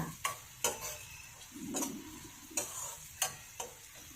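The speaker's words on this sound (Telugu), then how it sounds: "అన్నీ వేసుకొని బాగా వేయించుకోవాలి" Ridge gourd, tomato and onion curry frying in a pan, with a soft sizzle under regular spatula strikes and scrapes against the pan, about six distinct knocks.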